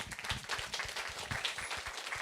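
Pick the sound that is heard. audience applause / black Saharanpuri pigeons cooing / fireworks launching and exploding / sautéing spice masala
audience applause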